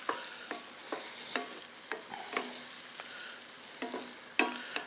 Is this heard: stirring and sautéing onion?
yes